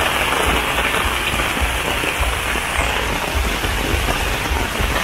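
Rain falls steadily at Christmas in the Philippines, a dense, loud hiss of drops pattering on nearby surfaces without pause, with no voices heard.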